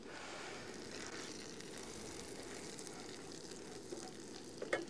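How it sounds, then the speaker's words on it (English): Pasta stirred in a pan on a camping stove, a faint, even sizzle and hiss with a few light scrapes near the end, quiet and unbroken by speech. "Just going to quickly stir that pasta as well and make sure none of it's sticking to the bottom"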